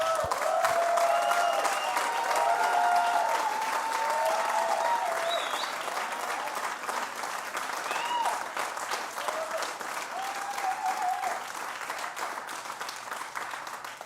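An audience at a live music venue breaks into sustained applause with some cheering to welcome a performer on stage, loud and steady throughout before easing slightly toward the end.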